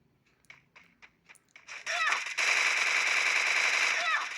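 Free Fire game gunfire: several short isolated shots give way to a long loud continuous burst of automatic fire that runs to the end.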